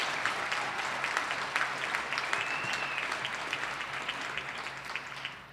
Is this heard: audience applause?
yes